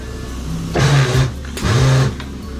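Tire changer machine spinning a wheel rim while a tire is mounted, two rising and falling motor whirs a moment apart, close and moderately loud.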